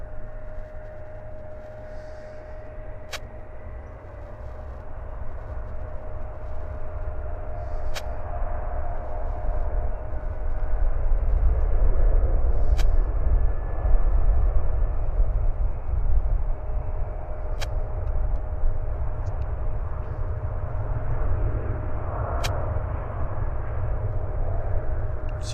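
Jet aircraft at Vancouver Airport taxiing, a steady low rumbling engine drone that swells a little midway, with faint radio chatter ticks occasionally cutting through.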